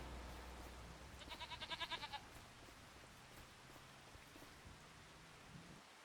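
Goats bleat in a quick rhythmic burst of about eight calls inside Farming Simulator 25, set over a steady hiss of rain. The bleats are moderately loud and no one speaks.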